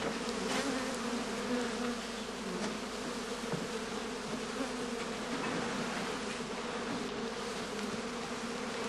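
Honeybees buzz around straw skep hives stacked close together, a dense continuous hum of many insects at moderate level with no voices.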